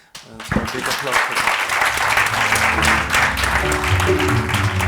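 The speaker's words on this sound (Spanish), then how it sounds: "creo que llega la hora de despedirlos con un enorme aplauso" Applause from the audience at the close of a talk on world-building in dark science fiction, broad and sustained clapping that swells quickly and holds steady, with cheering voices and some music-like tones rising near the end.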